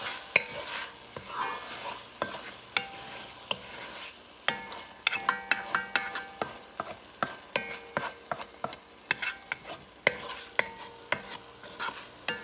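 Chickpea and summer sausage stew gets stirred in a pot, a quiet simmer broken by repeated sharp clacks and scrapes of a spoon against the pot in an uneven rhythm.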